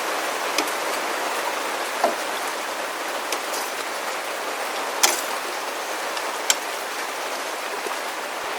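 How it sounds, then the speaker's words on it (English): Steady rain pours down outside during a home brew of rice beer, a dense, even hiss of drops on surfaces with a few sharper individual drips standing out, constant and fairly close throughout. "I hope you can hear me over the rain."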